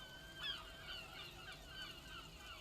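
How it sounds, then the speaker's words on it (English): Seagulls call high overhead in the video game Disco Elysium: several faint, distant cries drift over a steady quiet hiss, with no voices. "Nothing but the sound of seagulls high above in the sky, echoing like distant laughter."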